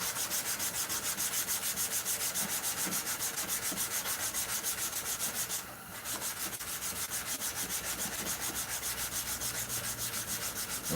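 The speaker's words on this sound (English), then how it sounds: "This is 220 grit that I'm sanding with." Steady, continuous scratchy rasp of 220-grit sandpaper rubbing back and forth over a surface, wet-sanding, close and even throughout with a brief dip partway through.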